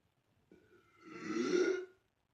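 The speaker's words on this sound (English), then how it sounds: "the secret to my burps is when you feel the burp coming on, breathe in before you exhale" A single long, deep belch, likely after drinking soda, builds from a short gulp into a rumbling, drawn-out burp lasting over a second, close to the microphone and alone.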